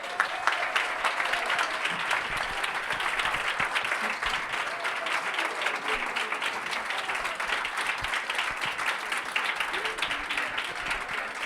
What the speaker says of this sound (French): Je vous demande d'applaudir Monsieur Louis Fouché, s'il vous plaît.